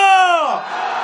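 A crowd at a candlelight protest march calling for Yoon Suk Yeol's impeachment lets out a loud, rising collective shout that swells briefly and then holds as a rough roar.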